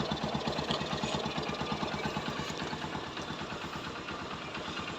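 Honda TMX Supremo motorcycle with a dirty, clogged air filter runs rough and struggles at idle, giving a steady low chugging thump with a faint knock, close and continuous.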